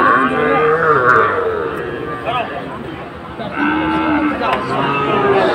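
A Sahiwal bull calf at a cattle market moos several times in drawn-out, wavering calls, close and fairly loud, with market noise and voices around it.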